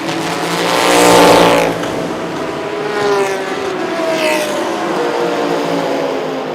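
Race cars, including a Lamborghini, scream past on a track during a TSS 2020 race. A loud nearby pass swells and fades, then further engine whines sweep by more distantly.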